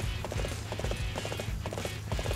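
Galloping horse hooves from the video game Dynasty Warriors 8 Empires give a quick, steady clip-clop rhythm, loud and close, under a constant layer of battlefield noise.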